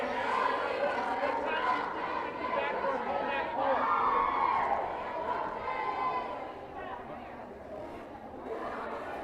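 Swim team kids gathered by team at a swimming invitational chatter and cheer, a steady indoor crowd murmur with scattered shouts rising and falling, moderately distant and echoing.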